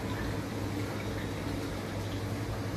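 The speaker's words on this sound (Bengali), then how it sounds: "এবার দিচ্ছি টমেটো কুচানো" Chopped tomato going into a pan of spiced sea-fish curry with cumin, coriander, chilli, turmeric, ginger-garlic paste and onion, giving a steady, faint, even sizzle and bubble throughout with no pauses and no voices.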